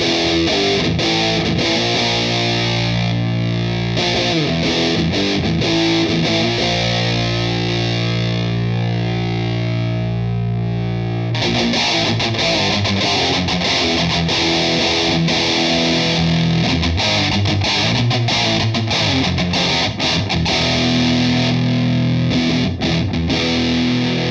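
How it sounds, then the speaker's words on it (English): A distorted electric guitar plays through an effects unit with its EQ boosting the high frequencies, giving a bright, shrill, buzzy tone as chords are strummed and sustained continuously at steady volume, with a short pause midway. "So I'm starting with the high frequencies. This is going to get shrill."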